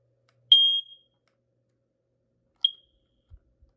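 A smoke alarm chirps after its battery is removed: one loud high beep, then a shorter fainter one about two seconds later, with soft handling knocks in an otherwise silent room.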